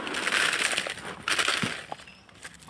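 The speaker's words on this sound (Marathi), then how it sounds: "हे काजू आता आपण ओतणार आहोत भाजण्यासाठी." Cashew nuts poured into a pan for roasting: a brief, close rattling cascade of hard nuts hitting metal, with crisp clinks that fade out after about two seconds.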